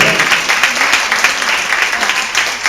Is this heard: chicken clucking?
no